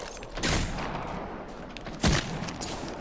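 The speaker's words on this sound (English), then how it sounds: "I am taking fire, friends." Gunfire in an Apex Legends match, two distinct sharp shots at a moderate distance over steady background game noise.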